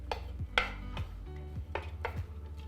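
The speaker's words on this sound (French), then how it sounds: "On va bien mélanger donc nos ingrédients avec" A spoon stirs ingredients into rice in a bowl, giving a few soft scraping knocks and light clinks against the dish at an irregular pace, close and fairly quiet, with no talk.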